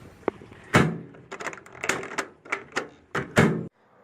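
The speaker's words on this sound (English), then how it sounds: "when I push the door open" A Panasonic microwave oven's door, whose faulty switch leaves the light on and the oven not running, is pushed open close by with a series of sharp clicks and clunks spread over a few seconds, with no talking.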